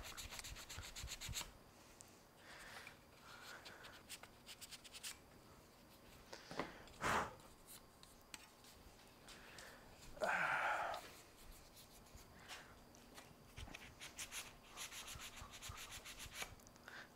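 Intermittent scratchy rubbing of a sanding block on a painted PC case, with a couple of louder, harsher bursts and quieter stretches between strokes.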